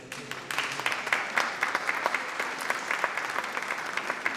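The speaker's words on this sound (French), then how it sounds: "Je vous applaudis." An audience at a legislative campaign launch claps for a municipal councillor, a lively round of distinct, crisp hand claps close by that carries on evenly for several seconds.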